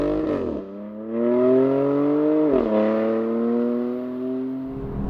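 A BMW M4 M Performance drives hard along the Šuňava rally stage road, its engine note climbing steadily through the gears with two sharp shift breaks, loud and close from inside the car.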